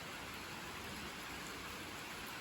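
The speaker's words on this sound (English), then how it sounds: "right now it is raining" Steady real rain falling on a Sunday evening in mid-September, a soft continuous wash of drops heard alone, faint and even throughout with no voices.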